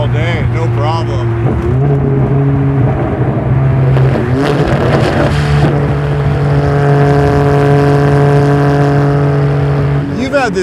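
A custom V12 Ferrari 612 engine revs loud and close in a steady drone with rising and falling pitch, while people talk over it.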